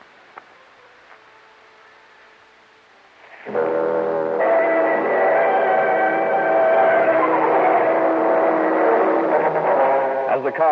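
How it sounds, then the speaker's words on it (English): A car roars toward the listener in a radio drama, a faint hum at first that suddenly surges into a loud, sustained engine roar filling the rest of the scene. "As the car roared towards me,"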